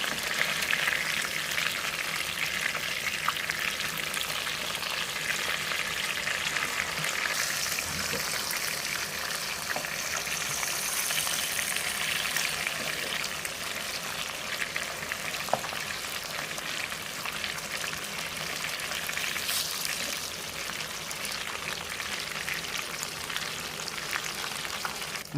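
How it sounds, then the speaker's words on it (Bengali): Pieces of katla fish fry in hot oil for a Bengali fish curry, giving a steady, dense crackling sizzle that runs unbroken and fairly close, with no voices over it. "একটা সাইড আমাদের লাল করে ভাজা হয়ে গেছে, এবারে আমরা উল্টে নিয়ে আরেকটা সাইডও ভেজে নেব।"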